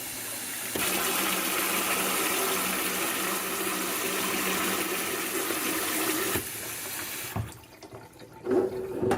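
Steady gushing stream of water from a Delta kitchen faucet with a faulty diverter, loud and continuous for several seconds, then cutting off, followed by faint clatter and a brief splash.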